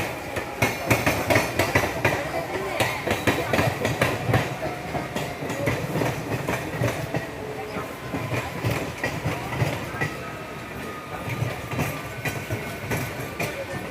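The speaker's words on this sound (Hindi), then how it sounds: "चेन्नई लोकल के साथ पैरेलल हम लोग के अपने को ओवरटेक करके आगे जा रहे हैं।" From aboard the Tamil Nadu Sampark Kranti superfast express, wheels clatter in a rapid rhythmic clickety-clack over rail joints, loud and continuous with rumbling and faint background voices.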